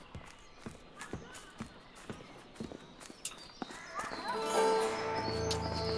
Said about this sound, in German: da scheucht man die Pferde weg und dann hat man kein Fluchtfahrzeug